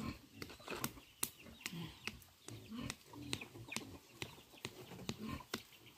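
Hens clucking repeatedly nearby, a busy overlapping stream of short clucks and calls with a steady rhythm, no talk.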